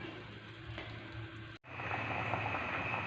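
Fish in coconut milk with chili leaves simmers in a pot, giving a steady bubbling hiss that breaks off for an instant midway and then carries on close and even.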